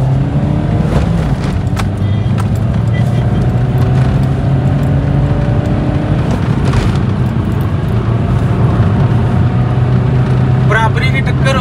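A Honda City iDTEC diesel with manual gearbox accelerates hard in a drag race against a Toyota Etios, its engine droning steadily and loudly from inside the cabin, with a rising tone and a shift partway through.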